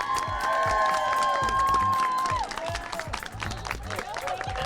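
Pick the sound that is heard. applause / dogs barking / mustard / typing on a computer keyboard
applause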